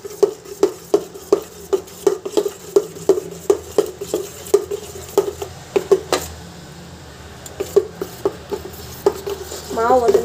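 Dosa batter is beaten by hand in a vessel, making a fast, regular train of wet slapping beats close by. The rhythm falters briefly before picking up again.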